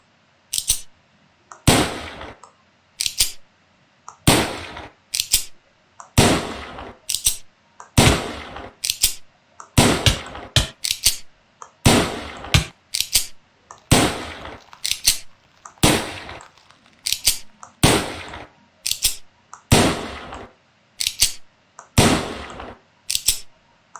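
Stun bullets fired from a gun in the video game Blightfall: a long series of sharp, loud single shots at regular intervals, each with a short decaying tail, repeating about twenty times.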